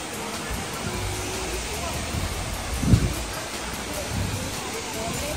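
Hongje Waterfall rushing in steady broadband noise, a continuous even roar from a short distance, alone without talk.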